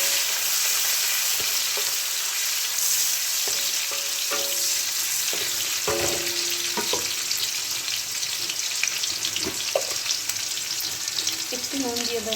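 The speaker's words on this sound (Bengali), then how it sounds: "এবার আমি এর মধ্যে পেঁয়াজ কুচি দিয়ে দেবো।" Chopped onion frying for lau masoor dal hisses steadily in the pan, with the spatula scraping and clinking again and again, close up throughout.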